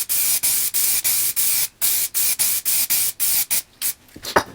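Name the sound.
cheap spray glue being sprayed onto wire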